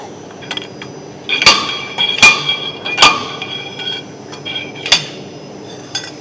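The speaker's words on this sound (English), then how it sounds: "We're going to screw in the slide hammer attachment." Sharp metallic clanks ring out at uneven intervals as a slide hammer pulls a stuck glow plug from a Mercedes OM606 diesel engine, about five loud impacts with softer taps between, close and echoing.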